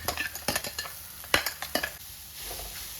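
Sizzling of a spice tempering frying in a pan with quick bursts of stirring and metal scraping, close up, then a softer steady sizzle.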